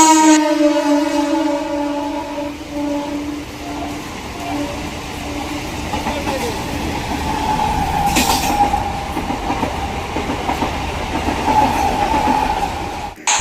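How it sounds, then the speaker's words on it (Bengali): An express train roars past close by at a rail station, a continuous heavy rumble of wagons with a loud horn blast near the start and a brief screech partway through, sustained for the whole stretch without talk. "এদিকে কিন্তু আবার একটা এক্সপ্রেস আসছে এবার মনে আমাকে উড়িয়ে নিয়ে চলে যাবে"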